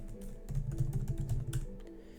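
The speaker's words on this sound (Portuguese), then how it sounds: "E escrever aqui qualquer e-mail" Close, quick keystrokes clatter on a computer keyboard as an email address is typed, a rapid uneven run of soft clicks with no talking.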